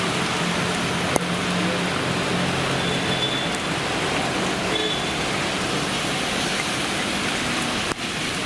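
Steady, dense downpour of heavy monsoon rain in Surat, a continuous broadband hiss with faint isolated knocks, no voices.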